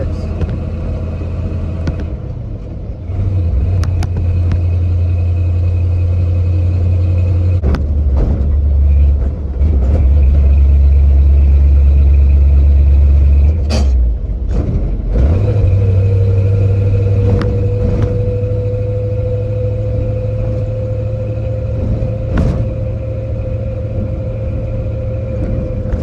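A 1970 Ford 600 hay truck engine drives steadily, a loud deep rumble that swells and shifts through gear changes, with a rising whine building in the second half.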